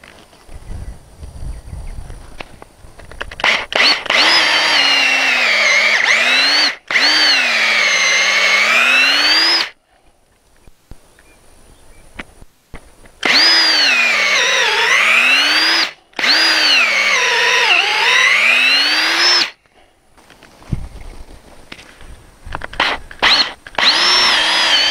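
Power drill boring holes through a wooden corner post for a fence brace, several loud sustained whining bursts of a few seconds each, separated by brief pauses, close and alone.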